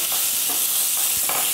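Potatoes frying in oil on a gas stove, a steady close sizzle with faint stirring scrapes over it.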